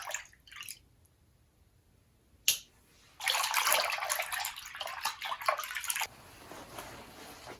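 Silk kimono fabric being washed by hand in water, with brief splashes and drips early on, then a longer stretch of sloshing and swishing water close by, with no talking.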